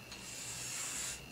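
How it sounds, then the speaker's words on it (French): Utility knife drawn along a ruler through a sheet of A4 paper, a single smooth scraping hiss that lasts about a second, close and quiet. "Maintenant on va extraire notre couvercle du A4. On va prendre le cutter et la règle."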